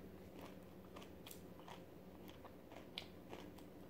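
Raw eggplant chewed close to the mouth with a quick series of small, crisp crunches and clicks over a quiet, steady background hiss.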